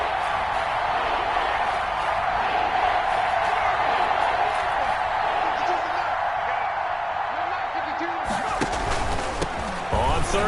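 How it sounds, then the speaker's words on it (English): A big American football stadium crowd roars loudly and steadily through a Cowboys playoff game, with a sharp burst of noise near the end and a commentator talking over it. "That just means this crowd's going to get even louder."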